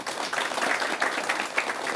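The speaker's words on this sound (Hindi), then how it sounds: "ताली बजाकर इनका स्वागत कर सकते हैं।" A studio audience at a televised discussion applauds to welcome a guest, a dense, close burst of many hands clapping continuously, with no one speaking.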